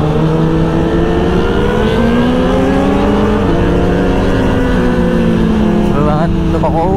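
Honda CBR1000RR-R superbike engine droning loud and close while riding on Bogor roads, pitch rising and dropping through gear shifts, with wind noise and a voice talking over it.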